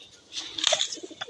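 A pigeon held in a person's hand gives a brief, soft coo, close by and fairly quiet, with no speech over it.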